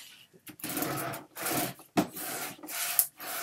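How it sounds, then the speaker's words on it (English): Paper being burnished firmly onto a handmade Christmas book folio, repeated scratchy rubbing strokes in uneven bursts with short pauses between, close and fairly loud. "And then I just go along and I just burnish the heck out of it."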